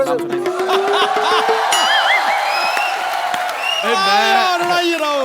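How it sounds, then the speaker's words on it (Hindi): Studio audience of a Hindi comedy talk show applauding and cheering for arriving celebrity guests, steady loud crowd noise with whoops and shouts running through, voices calling over it. "जोरदार तालियों से स्वागत कीजिए सोनाक्षी सिन्हा और जॉन अब्राहम का"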